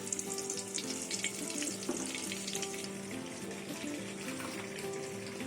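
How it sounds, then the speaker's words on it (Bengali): Mustard oil heats in a hot wok for a Bengali greens and fish-head dish, giving a steady close sizzle and crackle that runs unbroken from start to finish, with faint kitchen clatter and no talking. "কড়াই গরম হয়ে গেছে এবার তেল দিয়ে দেবো সর্ষের তেল"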